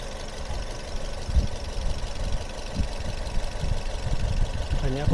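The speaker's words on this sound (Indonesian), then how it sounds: "Teman-teman bisa dengar sendiri suara irama mesinnya ya." A Toyota Yaris TRD automatic with about 15,000 km idles close by in a steady low rumble, with someone talking over it throughout.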